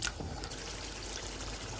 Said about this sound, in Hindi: अब इसमें मैं 1 गिलास पानी डाल रही हूँ